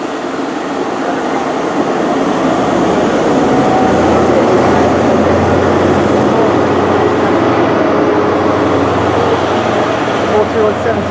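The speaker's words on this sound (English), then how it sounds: "departing now is the 1544 Great Western Railway service to" A Great Western Railway train departing for London Paddington along the line at Dawlish, a steady loud rumbling drone of wheels and engine sustained throughout, close by and unbroken.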